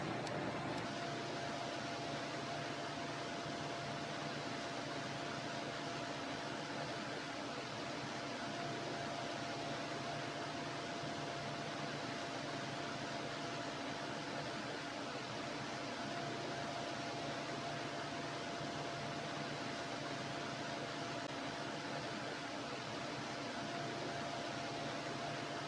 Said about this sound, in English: This is the AVI hood in a double stack configuration.